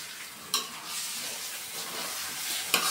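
Rice frying in a pan with onion and whole spices for pulao, a steady soft hiss of sizzling close by, with two sharp scrapes of a spoon against the pan.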